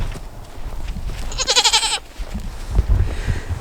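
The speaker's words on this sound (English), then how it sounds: "This is the problem with goats." A single goat bleats loudly nearby, a wavering cry lasting under a second, amid rustling and low background noise.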